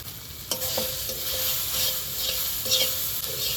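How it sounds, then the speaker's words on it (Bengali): Spice paste for a duck curry fries in a pan, hissing steadily while a utensil scrapes and knocks against the metal in repeated stirring strokes, close and with no talking. "মশলা কষানো হয়ে গেছে, এবারে মাংসটা 20 মিনিট রেখেছিলাম মেরিনেট করে, এবার দিয়ে দেবো মাংসটা।"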